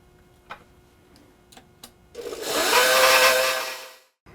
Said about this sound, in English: I put my mixing paddle on my stand mixer.